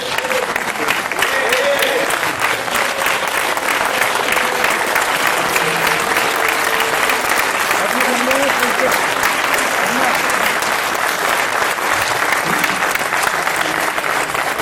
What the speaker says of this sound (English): so we can have a round of applause for all of you